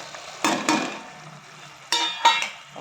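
Spoon mixing cowpea and field bean vegetable in a pan, heard as a few distinct scraping strokes against the metal with quiet gaps between them, close and clear.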